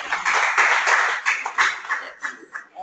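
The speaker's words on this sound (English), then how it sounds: "Also clapping here." An audience claps in a lively burst that gradually thins into scattered, uneven claps before fading out, with faint chuckling mixed in.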